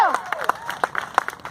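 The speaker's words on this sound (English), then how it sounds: "Let's give this guy a round of applause." Audience applause in a small gathering, scattered uneven claps with some faint voices mixed in, brief and moderately close.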